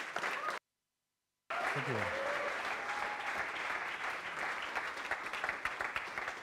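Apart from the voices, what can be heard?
round of applause for a speaker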